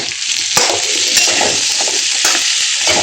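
Vegetables stirred in a hot pan for a Bengali tilapia fish curry, giving a steady close sizzle broken by a few sharp scraping strokes of the spoon, with no talking.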